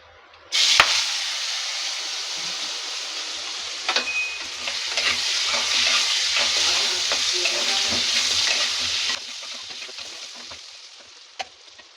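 Asafoetida, cumin, whole red chillies and turmeric hit hot oil, setting off a sudden loud, close sizzle that crackles steadily for several seconds before cutting out, with a few clinks of a utensil and no voices.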